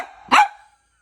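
A single sharp dog bark, close and fairly loud, given on command, with a short fading tail and no talk around it.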